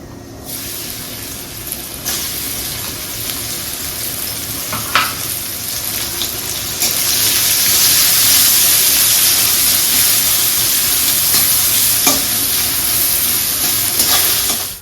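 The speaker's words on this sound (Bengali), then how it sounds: "গরম তেলে ছক করে ছেড়ে দিলেই কুরকুরে করলা ভাজা রেডি" Bitter gourd slices frying crisp in hot oil make a loud, continuous close sizzle that swells stronger about halfway through.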